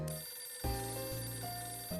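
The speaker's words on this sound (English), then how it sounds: "Phone's ringing." A telephone rings in the Hotel Dusk: Room 215 video game, repeated electronic ring tones with steady pitched tones in between, clear and alone.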